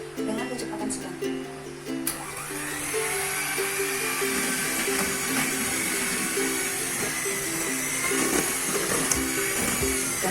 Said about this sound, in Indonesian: lakukan pencampuran dengan menggunakan mixer selama 20 menit dengan kecepatan sedang